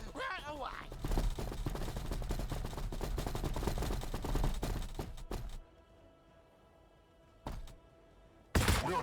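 Rapid bursts of gunfire and heavy thuds from a Warhammer 40,000 battle between Orks and Blood Angels, dense and continuous for several seconds, then a quiet gap broken by two short loud blasts.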